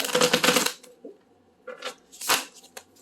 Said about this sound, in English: That was a chunky shuffle.